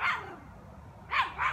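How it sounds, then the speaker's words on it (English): A dog barks, one sharp bark at the start and then a quick pair of barks a second later, fairly close and clear. "This is my dog over there"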